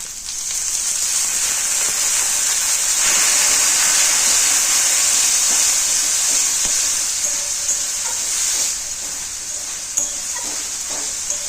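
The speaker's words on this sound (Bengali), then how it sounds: "এবার সমস্ত মশলাকে সামান্য জল দিয়ে ভালো করে কষিয়ে নেব" Spice paste of turmeric and cumin powders sautéed with a little water in a pan: a loud, continuous hissing sizzle with occasional stirring clatters, easing slightly toward the end.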